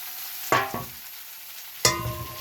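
Vegetables dropped into a hot pan, giving a sudden burst of frying followed by scraping stirs, with a second burst of sizzle and stirring a moment later and quiet in between.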